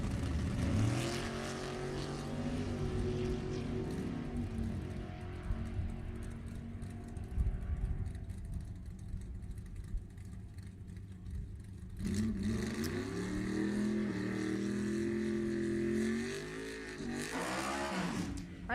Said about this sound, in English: Junior Stanley, 63 Falcon over here in the right lane.